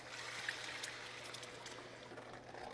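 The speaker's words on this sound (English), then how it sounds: "we're going to add our reserved broth" Reserved broth poured into a pan of shrimp boil with lemon juice, a faint, steady trickle and splash of liquid lasting a few seconds under a low kitchen hum.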